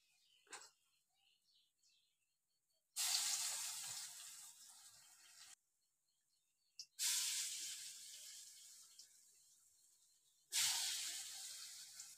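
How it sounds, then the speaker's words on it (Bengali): Lentil fritters (dal bora) drop into hot oil in a village kitchen, bursting into loud steady sizzling hiss in three long stretches, with short quiet gaps and small clicks between them. "ডালের বড়া ভাজা নিতেছি।"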